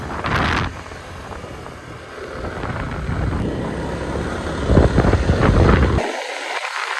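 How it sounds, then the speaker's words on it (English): Vehicle engine labouring up a steep jungle road in Thailand, a steady strained drone with wind buffeting the microphone, swelling louder near the end before cutting off abruptly. "you can feel the engine struggling, but luckily it seems strong enough"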